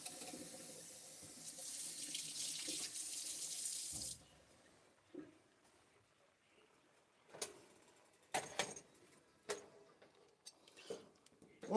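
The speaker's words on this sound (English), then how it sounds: "Now I gotta run some cold water in the sink" Cold water gushes loudly from a tap into a sink for about four seconds, then stops, followed by scattered faint clinks and knocks.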